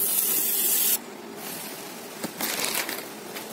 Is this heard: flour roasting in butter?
yes